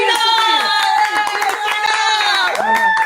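A talk-show studio audience claps and cheers for the guest Gina Savina, a dense, steady round of hand claps mixed with excited shouting voices, loud and close throughout.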